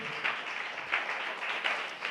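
Church congregation applauding together in a continuous wash of hand claps with a few louder swells, distant and fairly soft throughout.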